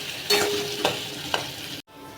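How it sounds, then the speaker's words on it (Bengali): Potatoes with chili, ginger and salt sizzle in a wok while being stirred, with a steady frying hiss broken by three distinct scrapes of the spatula before a sudden brief cut. "এবার ভালো করে সব কিছুকে মিশিয়ে নিয়ে ভাজতে থাকবো।"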